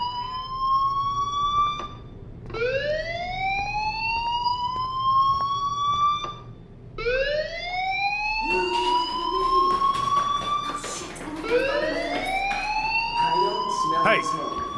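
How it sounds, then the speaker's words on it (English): A school fire alarm blares in the video game Life Is Strange, repeated rising electronic whoops in several long bursts, loud and close, with a voice briefly speaking near the end. "Hey, do you hear that fire alarm?"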